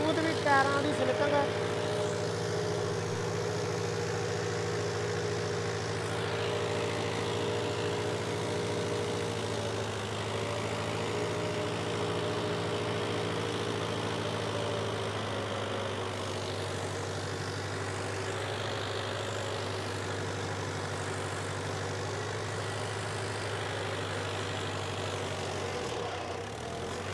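Diesel engine of a Mahindra Arjun 605 DI tractor fitted with wheel weights, running steadily at a low, even drone close by throughout, with tyres slipping under load and a voice speaking over it.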